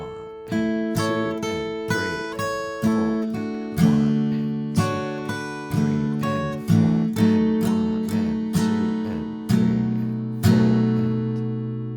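Acoustic guitar plays a song's riff alone, bright plucked notes in a steady rhythmic pattern with regularly recurring strums that ring and decay over a bass line.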